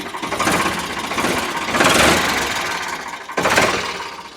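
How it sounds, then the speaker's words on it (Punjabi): A Ford 3600 tractor engine runs up close, chugging and revving in strong surges, with two louder bursts of throttle. "ਫੋੜ ਦਾ ਫਰਾਟਾ ਭਾਈ ਫੋੜ ਦਾ ਫਰਾਟਾ ਸੁਣ ਲਿਓ ਜਿਹਨੇ ਸੁਣਨਾ ਹੋ"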